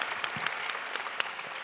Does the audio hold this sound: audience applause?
yes